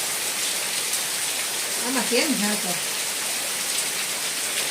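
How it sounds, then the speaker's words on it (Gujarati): Heavy rain pours down in Mithapur as a dense, steady hiss that fills the whole scene, with a brief voice rising over it partway through. "વરસાદ ગજબ પડે છે મિત્રો ગજબ"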